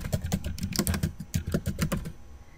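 Rapid, irregular keystrokes on a computer keyboard, close and clear, clattering for a couple of seconds and then stopping, with no voices.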